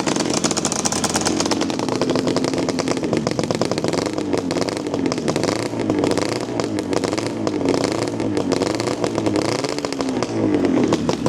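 A 1982 Yamaha RD350LC two-stroke motorcycle engine revs up and down repeatedly, close and loud, with a crackling, raspy exhaust note throughout.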